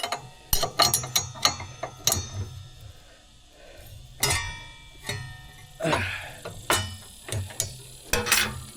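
A wrench ratchets and clicks as it loosens the nut on a saw blade shaft, several quick bursts of metallic ratcheting with short pauses between, close and fairly loud, no voices.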